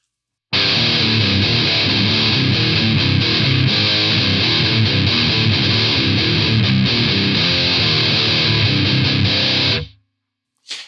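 Electric guitar played through a Hotone Skyline distortion pedal with the edge button off, a loud, thick distorted riff ringing for about nine seconds before cutting off abruptly, followed by a brief click.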